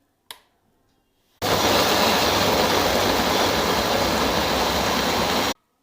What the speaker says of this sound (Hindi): अब हम इन सब चीज़ों को ब्लेंड करेंगे।